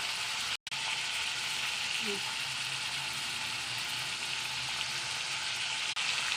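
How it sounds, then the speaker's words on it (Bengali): Continuous dense sizzling and crackling of onions and tomatoes frying in a pan, steady and fairly close, with one brief dropout near the start. "এবার এটা ভালো করে ভেজে নেবো।"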